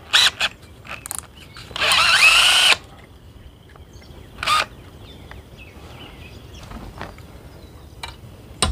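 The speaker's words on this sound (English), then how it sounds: "I'm just gonna go ahead and drill this out." Power drill boring out a rivet on a Conibear trap trigger: short whirring bursts, one sustained grinding run of about a second, then a few more brief spurts, close and loud.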